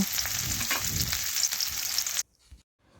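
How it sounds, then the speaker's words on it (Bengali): Onions sizzle and crackle steadily in a hot pan as they fry until reddish, with light stirring. The sizzle cuts off abruptly near the end, leaving a faint clink. "পেঁয়াজটা বেশ কিছুক্ষণ ধরে একটু লাল লাল করে ভেজে নেব"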